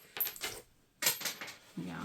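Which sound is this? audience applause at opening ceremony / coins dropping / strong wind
coins dropping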